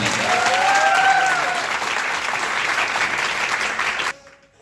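A large audience at a network marketing event claps loudly and steadily for a guest mentor, with faint whistles above the dense applause before it cuts off abruptly near the end.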